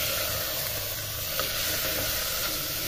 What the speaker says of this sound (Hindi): अभी खाली भूनूंगा थोड़ी देर तक, 5 मिनट तक, उसके बाद मैं मसाले डालूंगा।